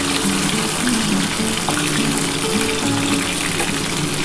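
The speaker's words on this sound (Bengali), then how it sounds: "আমি হালকা করে ভেজে নিচ্ছি।" Chicken pieces coated in cornflour and spices fry lightly in oil for dry chilli chicken, giving a dense, steady, close hiss throughout. A single word is spoken briefly.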